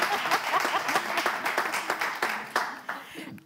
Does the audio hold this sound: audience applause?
yes